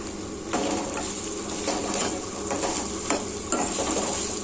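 Manila tamarind (seema chintakaya) pieces fry in a pan with a continuous close sizzle, broken by repeated scraping stirs of a utensil against the pan, no voices.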